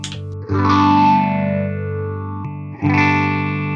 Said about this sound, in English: The Tone Master sounds pathetic in fall mode.